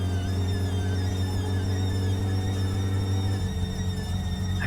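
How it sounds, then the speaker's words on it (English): A loose fan belt on a car in the video game My Summer Car gives a continuous, steady high squeal over a loud low engine drone, the engine pitch shifting slightly near the end. "that one sounds like a loose fan belt"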